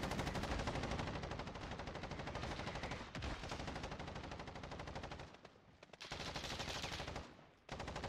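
Call of Duty DMZ gunfire rattles in continuous loud automatic bursts, rapid and unbroken for seconds at a time, with two short gaps before firing resumes.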